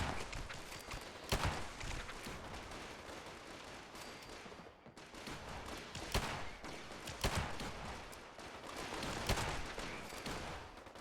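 Pistol gunfire in the video game Fallout 76: several sharp, loud shots burst out over a dense, steady wash of in-game background noise, with no talking.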